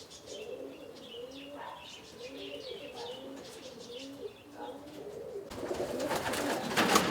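Roller pigeons coo in repeated low rolling phrases close by, with light chirps overhead, before a burst of wing flapping and rustling noise near the end.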